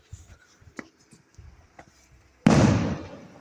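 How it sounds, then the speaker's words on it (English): Fireworks going off across the street on bonfire night: quiet outdoor ambience with faint pops, then a single loud burst and a fading crackle. "If they keep on doing those fireworks, we might be able to see the whole thing."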